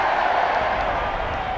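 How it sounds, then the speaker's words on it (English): A stadium crowd of Hull rugby league fans cheers in a steady, loud roar during a 1982 match against the Kangaroos, with no voices standing out. "The Hull fans cheer."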